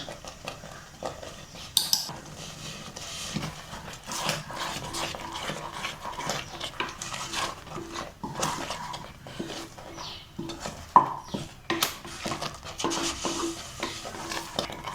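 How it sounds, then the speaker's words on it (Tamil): A spoon stirs masala for a mutton gravy in a metal pan, scraping and clinking steadily over a soft sizzle, close and fairly loud with no talk. "மசாலா நல்லா கலந்து விட்டுக்கலாம்."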